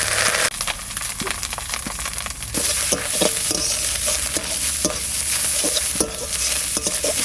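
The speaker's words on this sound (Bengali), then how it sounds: "নারকেলটা ভাজা ভাজা হয়ে গেছে" Grated coconut fries in oil with bay leaf and cumin in a village-style kitchen, a close, steady sizzle punctuated by frequent scraping and clinking stirs.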